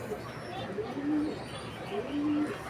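Pigeons coo at their loft in soft, repeated low calls, several overlapping coos close by over a faint murmur of background sound.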